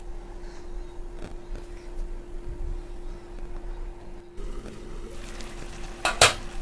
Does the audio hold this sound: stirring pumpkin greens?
yes